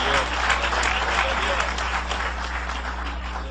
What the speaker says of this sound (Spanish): Dale un aplauso al Cordero de Dios.